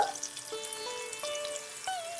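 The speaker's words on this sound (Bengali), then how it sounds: "যাতে চাল কুমড়োর দুটো পিটি সমানভাবে ভাজতে পারি" Slices of ash gourd sprinkled with turmeric fry in oil, giving a steady close sizzle with faint crackles throughout, while a tonal background sound runs underneath.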